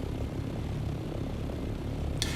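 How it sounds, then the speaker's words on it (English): Aircraft engines in Dune Awakening produce a steady, broad, low roar that holds evenly throughout, with a short bright burst near the end. "I'm going to put the engines on and fly to it."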